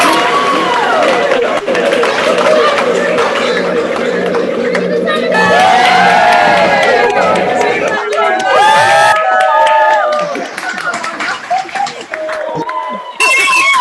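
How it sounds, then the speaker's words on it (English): Graduates cheer together over unmuted online meeting microphones at a university celebration, a loud jumble of overlapping whoops, shouts and voices that rises, holds, then breaks into scattered cries before fading. "let's give ourselves a huge cheer of congratulations for the UCM."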